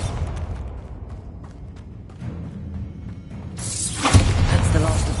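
A Bombarda spell blast in Hogwarts Legacy, a low rumbling buildup followed by a sudden loud, bright explosive burst with a crackling, debris-like tail near the end.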